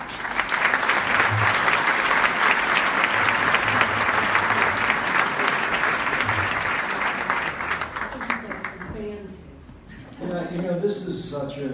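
A live audience at an evening book event applauds to welcome guests, sustained dense clapping that fills most of the stretch before fading, then a voice begins speaking.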